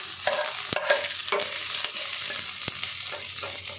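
Sliced onions sizzle and fry steadily in a pan while being stirred, with occasional scrapes and clinks, as the base for an Odia pomfret fish curry; no voices, a close, moderate crackle throughout.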